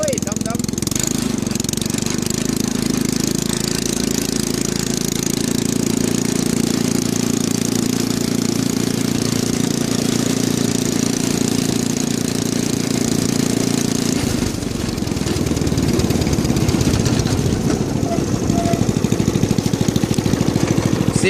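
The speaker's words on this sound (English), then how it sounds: "the exhaust sounds pretty good" A go-kart engine fitted with a new muffler runs loud and close for about twenty seconds, a continuous buzzing exhaust note that shifts to a rougher, choppier idle partway through.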